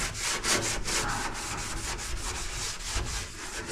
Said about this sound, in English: just kind of scuff this up really good